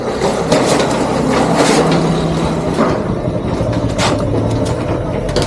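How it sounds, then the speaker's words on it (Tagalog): A motorized tricycle engine rumbles steadily nearby, with rattling and clanking over a busy street background, fairly loud throughout. "yan pala yung pagsasakyan nila, yung motor, ay tricycle"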